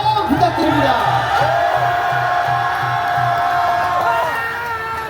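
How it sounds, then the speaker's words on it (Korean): Outdoor political rally crowd near Seocho Station cheering and shouting over a steady background hum, a loud continuous roar of voices and whoops that holds throughout, with a low rhythmic pulse underneath. "뜨거운 박수와 격려 함성 부탁드립니다."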